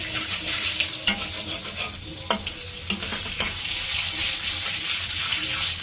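Whole cardamom and cinnamon are stirred with cumin in a hot pan, a dense sizzling hiss broken by several spoon scrapes against the pan, close and loud.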